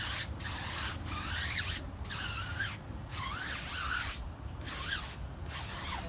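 Stiff-bristled wheel cleaning brush scrubbing a dirty Maserati rim, working off brake dust and old tire shine, in repeated back-and-forth swishing strokes, close and steady with wet scratchy texture and no talking.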